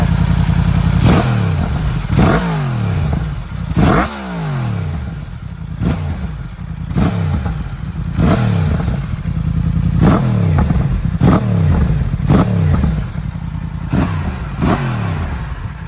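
A warmed-up Yamaha MT-10 motorcycle fitted with a modified exhaust is revved repeatedly up close, sharp throttle blips rising and falling about every second or two over a rumbling idle.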